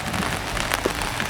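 Steady rain patters on surfaces outdoors by a quail aviary, a dense even hiss of drops close by with no talking.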